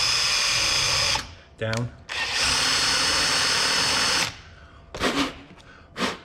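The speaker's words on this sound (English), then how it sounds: "I'm not trying to bore the thing out as in the subwoofer, we're just trying to make the hole big enough" A power drill bores out a hole with two long, loud whirring runs separated by brief pauses, followed by shorter bursts near the end; a voice speaks briefly between runs.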